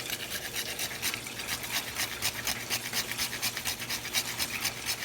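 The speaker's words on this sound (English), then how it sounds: "Then I'm going to get some nutmeg, because it's spicing it up, and I'm going to grate her." Nutmeg rubbed steadily over a grater for pumpkin oatmeal porridge, a close, continuous rasping scrape in quick repeated strokes with no talking.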